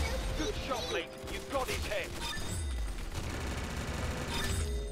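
Rapid gunfire from a round of the Roblox game Arsenal, with bursts of repeated shots over game sounds, loud and close.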